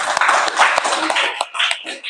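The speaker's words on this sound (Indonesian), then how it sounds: "Oke, tepuk tangan dulu." A classroom of students claps hands in a brief burst of sharp, uneven claps mixed with voices and chatter, fairly close and moderately loud.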